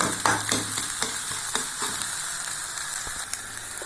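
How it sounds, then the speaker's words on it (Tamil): Vegetables sauté in a kadai for egg fried rice, giving a steady close sizzle with repeated light scraping and tapping stirs throughout, at moderate volume and without speech. "இப்போ இந்த காய்கறி போட்டு நம்ம வதக்கி சாதத்தை கிளற வேண்டியதுங்க"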